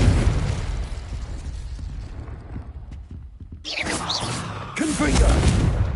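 A Confringo spell blast in Hogwarts Legacy, heard as a loud burst and whooshing boom, followed by a second sharp explosive impact at close range.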